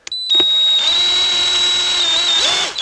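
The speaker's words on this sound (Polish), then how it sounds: "To jest jak coś, to jest wiertełko szóstka." A power drill with a 6 mm bit whines loud and close as it drills into a short shifter part for a BMW E36, one sustained high steady run with slight pitch shifts.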